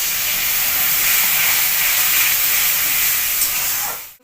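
Water poured into ground spices frying in a pan bursts into a loud, steady steam hiss that lasts several seconds before cutting off abruptly.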